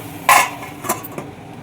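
A lid is set onto a pan of simmering yellow cucumber curry, giving one sharp metallic clank followed by two fainter taps in a quiet kitchen.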